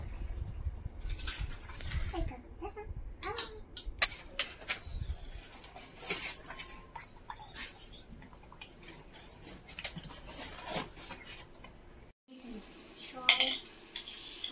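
A cooking pot is lifted off the stove in a home kitchen, with scattered metallic clanks and scrapes of cookware, some sharp knocks, and faint birds cooing in the background.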